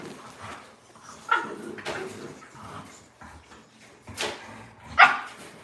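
An exotic bully dog barks in a few sharp bursts, a louder yelp near the start and another near the end, over a low background murmur without clear speech.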